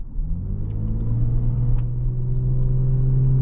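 A 2002 Lexus IS300 with an automatic gearbox drives along, its engine giving a steady, close, low rumble with a faint rise in pitch and continuous road noise throughout.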